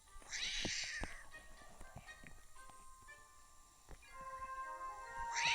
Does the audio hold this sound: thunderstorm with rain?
no